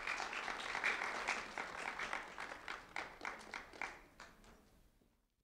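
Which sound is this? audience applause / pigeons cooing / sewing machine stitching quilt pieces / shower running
audience applause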